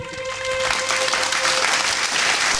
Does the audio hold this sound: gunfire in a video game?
no